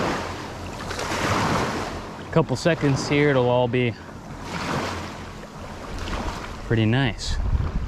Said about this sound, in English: Bit of boat traffic, but what can I say?